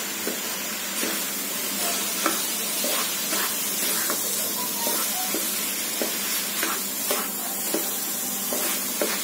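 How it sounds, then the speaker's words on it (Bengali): Spice paste and onion for hilsa pilau sizzle steadily in a pan, a continuous frying hiss punctuated by regular scraping and clinking as a spoon stirs and turns the mixture. "এখন এটা ভালো করে কষিয়ে নিচ্ছি।"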